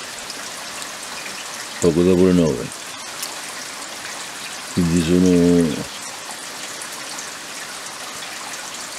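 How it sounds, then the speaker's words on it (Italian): Rain falling through the night in Cantalice, a steady soft patter under someone speaking Italian in two short bursts. "Qua piove da ieri sera,"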